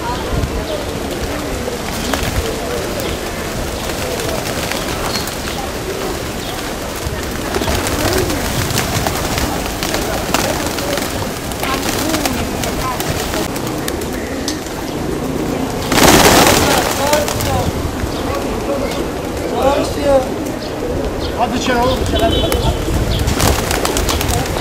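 Pigeons coo in a steady stream of low, soft calls, heard at close range against a busy background of rustling, with voices speaking now and then and a loud burst of noise partway through.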